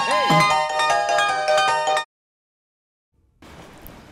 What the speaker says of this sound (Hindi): सर का फोन बज रहा है